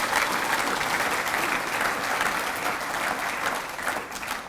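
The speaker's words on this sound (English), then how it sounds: "that's worthy of a round of applause" A members meeting audience claps for a man named Rod, a continuous even round of applause at full strength from start to finish.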